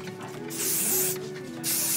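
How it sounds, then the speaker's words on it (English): Two short bursts of aerosol hairspray backstage at a Broadway theatre, with the body microphone covered, loud hissing sprays up close with a brief gap between them over a faint background hum. "Give it a little spray, cover the microphone so you don't spray the mic."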